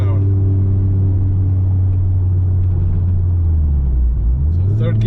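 Ford Focus RS mk2 engine pulling on the road from a rolling 30 mph in third gear, a loud steady low rumble from inside the car, with engine pitch dipping then rising near the end.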